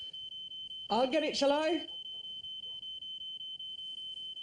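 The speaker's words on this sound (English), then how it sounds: "It's Nabil's seizure alarm." A seizure alarm gives a steady run of high, rapid electronic beeps that continues throughout, with someone speaking briefly over it near the start.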